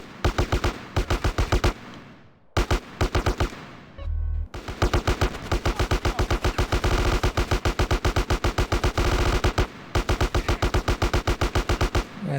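Rapid bursts of automatic gunfire in GTA San Andreas, loud and close, firing in long rhythmic strings with a few short pauses and one low thud between bursts, no talking over it.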